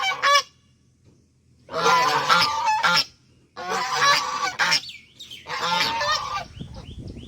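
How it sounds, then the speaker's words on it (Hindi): Domestic ducks locked inside an enclosure quack noisily and excitedly in three loud bursts, harsh honking calls close by with short quiet gaps between them. "हम लोग को देख करके हल्ला गुल्ला बतख कर रहा हो कि निकाल दे"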